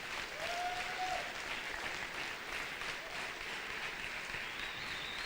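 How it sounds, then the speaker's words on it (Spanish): Congregation applause during a church service, a continuous, fairly faint wash of clapping that stays even for about five seconds, with faint tonal sounds briefly rising above it. "Dale un aplauso al Señor."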